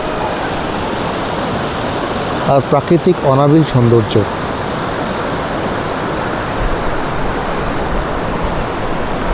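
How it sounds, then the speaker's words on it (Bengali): A waterfall in Kokernag, Kashmir, in a valley park, pours in a steady, dense roar throughout, with someone speaking briefly over it partway through. "সাইলেন্স, শুধুমাত্র ঝর্ণার আওয়াজ"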